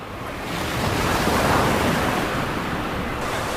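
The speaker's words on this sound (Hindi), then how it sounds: "समुद्र की लहरें रोजाना 1000 से ज्यादा घोंसलों को बर्बाद कर देती हैं।" Ocean waves break on a beach where olive ridley turtles nest, a broad steady surf wash swelling and holding loud, with some wind buffeting and no voices.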